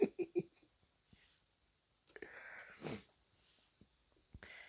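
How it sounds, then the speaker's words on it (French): A single person sneezes indoors, a short sharp burst near the start, followed by quiet breathing and faint handling noises. "J'éternue."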